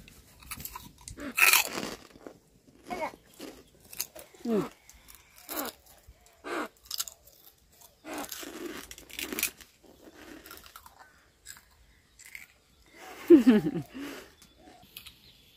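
Fried homemade chips are crunched and chewed close up in sharp, irregular bursts separated by short quiet gaps, with a louder crunch near the end.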